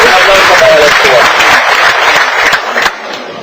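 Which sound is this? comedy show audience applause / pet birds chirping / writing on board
comedy show audience applause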